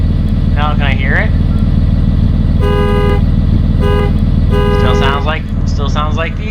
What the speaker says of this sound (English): we were able to get the air horn on it